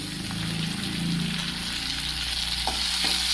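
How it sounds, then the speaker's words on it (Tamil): Dried red chillies, curry leaves, slit green chilli and tomato frying in hot oil for moong dal sambar, a loud, steady close-up sizzle with faint stirring scrapes. "இது எண்ணெயிலே போட்டு லேசாக இப்படி வணக்கி விட்டுக்கலாம்."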